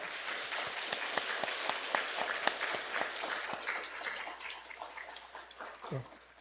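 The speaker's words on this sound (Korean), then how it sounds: "우리 학생들 인사할 때 큰 박수로 축하해 주시기 바랍니다" A church congregation at a Sunday worship service applauds to congratulate students, with steady, even clapping from many hands that thins toward the end, where a brief voice is heard.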